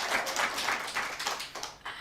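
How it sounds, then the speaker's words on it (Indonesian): Soft, steady applause from a women's religious study gathering, a dense patter of many hands clapping at a modest distance with no voices over it. "Mantap, tepuk tangan dong."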